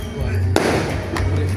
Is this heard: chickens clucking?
no